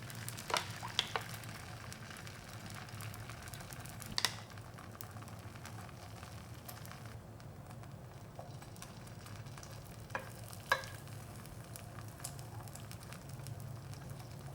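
Egg mixture for a Korean rolled omelette cooks quietly in a lightly oiled pan over medium-low heat, a faint, steady sizzle with a few soft spoon taps and scrapes.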